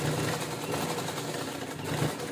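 Sewing machine stitching piping (goat patti) into a blouse, a steady continuous motor hum and rapid needle chatter running close and unbroken for the whole stretch, with no talking.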